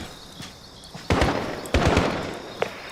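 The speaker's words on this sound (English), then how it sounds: "so there's shots fired there" Gunshots in a Call of Duty special forces mission: two loud, sharp clusters of rapid shots with a fainter crack after them and softer pops before, close and echoing, with no talk.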